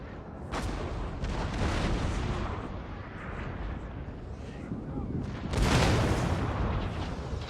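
Napoleonic artillery cannons firing bouncing shots toward cavalry in Napoleon: Total War, a steady rumbling din of distant booms with a louder blast near the end, constant battlefield noise throughout.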